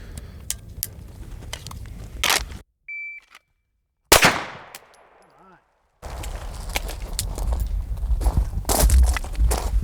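Sharp pistol shots from a Stealth Arms Platypus 1911 taking Glock magazines with an extended magazine, loud outdoor bangs with one big crack ringing off into a decaying tail, separated by silent gaps.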